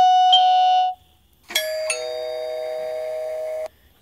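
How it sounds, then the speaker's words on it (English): SkyBell HD video doorbell chiming: a short two-tone electronic ding-dong, then after a brief pause a longer, brighter ringing chime that holds for about two seconds before cutting off, clear and close in a quiet room. "if I press this button, it should ring the doorbell in the house as well as out here and on the phone"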